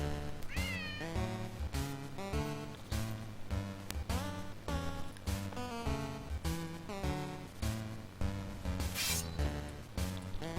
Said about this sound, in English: You might be able to hear my cat in the background.